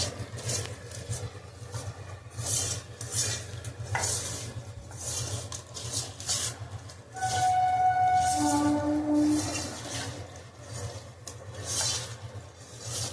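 Small fish curry stirred by hand in a pan with oil, steady scraping and sizzling close up, with a brief tonal squeak partway through.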